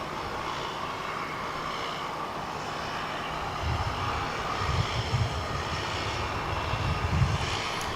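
A CRJ 900ER regional jet arriving at DFW International Airport, a steady broad engine roar at a distance with low rumbling swells, no talk over it.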